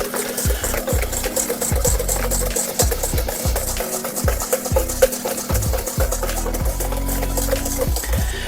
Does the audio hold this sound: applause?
no